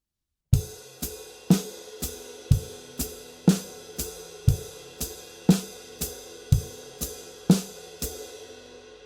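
Drum groove with ride cymbal, hi-hat foot, bass drum and snare: evenly spaced strikes in a steady pulse, each with a ringing cymbal wash, close and played alone.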